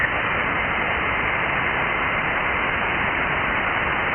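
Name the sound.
radio jammer interference on amateur band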